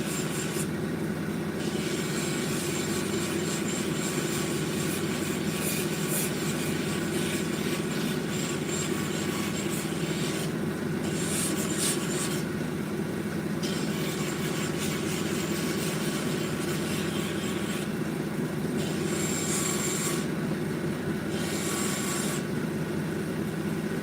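Australian boulder opal from Queensland is pressed against a spinning lapidary polishing wheel with an uneven girdle, giving a steady, loud grinding rasp with a constant hum that lasts throughout without pause.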